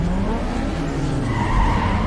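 A Lancer Evo in a racing video game strains at high revs, its engine whine and tyre noise loud and close in a short continuous burst with a rising surge near the end.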